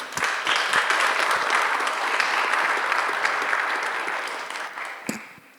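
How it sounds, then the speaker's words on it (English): A warm round of applause from a conference audience after a blockchain panel on DAOs: many hands clapping densely and steadily at even loudness for several seconds, tapering slightly before a final sharp clap. "Can you give them a warm round of applause?"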